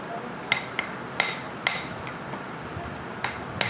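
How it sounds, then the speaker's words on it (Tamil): Light taps of a hammer seat an electric motor bearing, five or six sharp metallic knocks spaced irregularly and heard up close with no talking. "லைட்டாக சுற்றி 3 பக்கத்துலேயும் லைட்டாக தட்டணும்."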